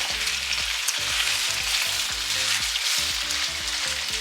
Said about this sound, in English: I'm just gonna go through and sear them off for a couple of minutes on each side.